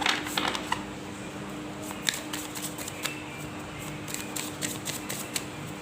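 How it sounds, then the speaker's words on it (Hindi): Tarot cards being shuffled by hand, with soft riffling snaps and taps repeating irregularly, close and fairly quiet, and no voice over them. "Last shuffle."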